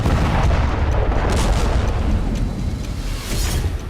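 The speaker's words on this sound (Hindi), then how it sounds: "एक रॉकेट अपार्टमेंट की पार्किंग में गिरा, जिसके बाद जोरदार धमाका देखा गया" A rocket strikes an apartment parking lot: a loud, rumbling blast roars on continuously, with deep booming and crackling debris filling the whole stretch without any voices.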